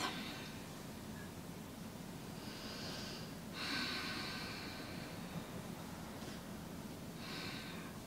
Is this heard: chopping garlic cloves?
no